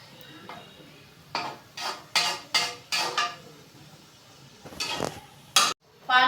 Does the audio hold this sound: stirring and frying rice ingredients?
yes